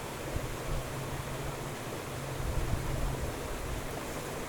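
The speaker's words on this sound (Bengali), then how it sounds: "চিনি, এগুলো সব ঢেলে নিলাম" Sugar poured from a packet into a cooking pot, a soft, steady granular hiss that runs unbroken and fairly quiet throughout.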